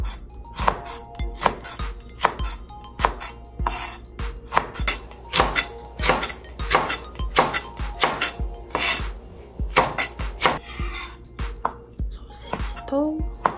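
A kitchen knife cuts chili peppers on a cutting board, slicing them diagonally for a spicy Korean sausage stew, in a quick steady run of close, crisp chops with no voice over them.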